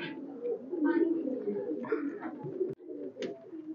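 Red-necked highflyer pigeons coo in a loft, soft repeated throaty calls close by with a brief break partway through.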